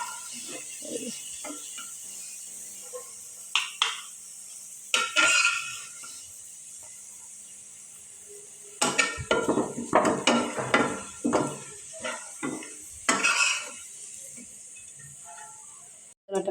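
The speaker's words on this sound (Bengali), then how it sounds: "তার জন্য বারবার নাড়তে হবে এইভাবে করে, নাহলে পুড়ে যাবে।" Food frying in a pan is stirred repeatedly with a utensil, giving scattered clinks and scrapes against the pan over a faint sizzling hiss, with quiet gaps between bursts of stirring.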